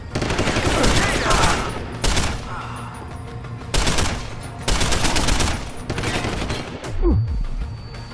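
Gunfire in Deus Ex: Human Revolution: repeated loud bursts of rapid shots in several clusters with short gaps, dense and close, with other game sounds between the bursts.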